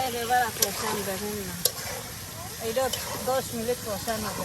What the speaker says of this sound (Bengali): এখন কলা ওর মাংস মশলার সাথে কষানো হবে